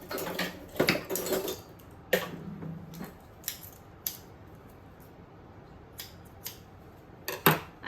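Several sharp snips of scissors, quick and close, come in irregular bursts with quiet pauses between cuts, and no one speaks.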